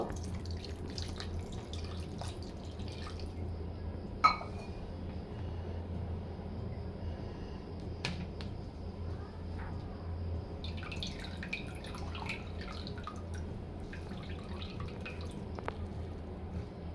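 Water poured over freshly set chhena in a thin cloth drips and trickles faintly, with sparse small splashes against a quiet kitchen background.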